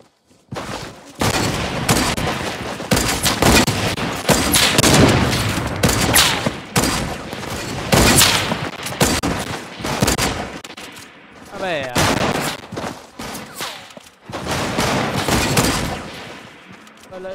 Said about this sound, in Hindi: पहला एक भी शॉट नहीं मारा।